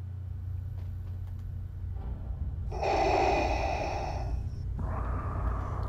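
A Darth Vader suit in Fallout 4 gives a loud mechanical breathing hiss, a long rasping inhale followed by a steady exhale, over a low game rumble.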